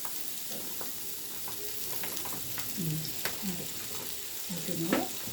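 Sliced bitter gourd (kakarakaya) frying with onions in oil sizzles in a steady, close crackle, with occasional stirring scrapes and clinks from the pan.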